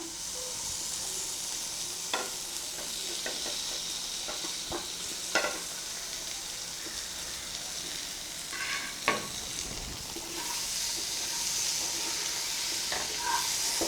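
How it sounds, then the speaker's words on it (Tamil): Goat brain fries in a pan with a steady, close sizzle, broken by occasional soft scrapes and clicks of gentle stirring, with no talk. "இப்போ இதோட நம்ம கட் பண்ணி வச்சுருக்கக்கூடிய மூளையை அதில் போட்டு லைட்டாக பிரட்டி எடுத்துடலாம்"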